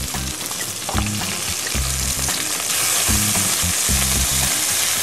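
Snapper fillets fry in a hot pan around the moment they are flipped. A steady, dense sizzle runs throughout, with some low thumping pulses beneath it.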